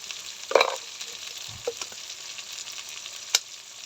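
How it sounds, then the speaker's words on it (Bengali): Ground turmeric, coriander and chili powder frying in oil in a pan, a soft sizzle with a few stirring knocks and scrapes of a spoon, no talk. "মশলাটাই তেলে ভেজে নেবো"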